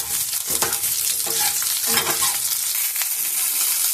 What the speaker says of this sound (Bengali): দিয়ে দিলাম বেগুনটা। বেগুনটাও ভেজে নেব।